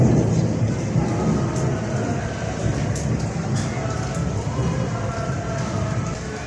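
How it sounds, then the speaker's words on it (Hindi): Heavy thunder rolls continuously during rain in Karachi, a deep, broad rumble with no break, loud and close. Rain noise blends in beneath it. "कितने ज़्यादा बादल गरज रहे हैं।"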